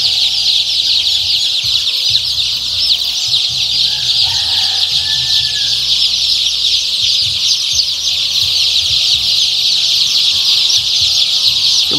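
Three-day-old chicks being herded into a group make a dense, continuous chorus of shrill peeping. The sound is close and loud and runs steadily throughout without a break.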